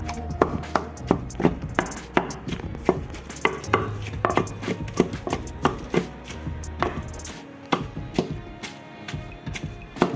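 Washed chicken pounded a little at a time in a stone mortar, with a steady run of sharp, heavy thuds at a brisk even rhythm, close and loud throughout.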